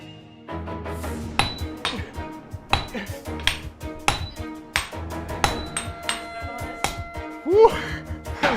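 A master swordsmith hammers steel flat, producing a rhythmic series of sharp metallic clinks and rings at a steady pace, close and clear with resonant tails between strikes.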